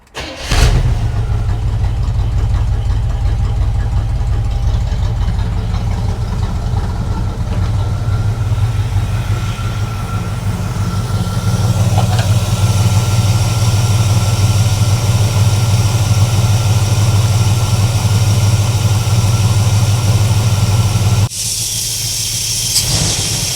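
Old squarebody plow truck engine cranking and catching, then settling into a loud, steady rough idle that runs close and continuous until a sudden drop near the end, with no talking.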